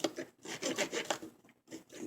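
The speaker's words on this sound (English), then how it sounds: "That's where the rasp comes in." A rasp files the wooden side of a homemade treasure chest in steady back-and-forth rough strokes, loud and close, with short pauses between passes and no talking.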